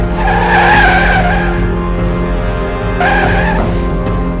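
Game car skids after its tires are shot out in a Minecraft military battle scene, a loud sustained tire squeal over engine rumble, one long skid then a second shorter one.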